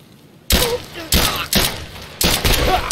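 Loud gunshots in Escape from Tarkov, four sharp close reports in irregular succession, each with a short ringing tail, over a quiet background.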